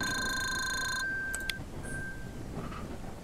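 In a dating sim video game, a telephone rings with a bright, steady electronic tone for about a second, then fainter chirps follow. The ringing is quiet and heard alone.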